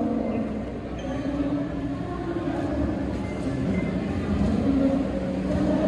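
Steady low rumble of a passenger train standing at a station as an economy-class carriage is boarded, a continuous close hum with no clear speech.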